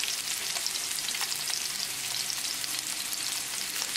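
Butter melts and sizzles loudly in a pan of lemon juice over medium heat, a steady close frying crackle with scattered pops throughout.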